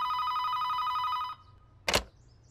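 A telephone rings close by with a steady electronic trill for more than a second, then stops, and a short sharp click or knock follows.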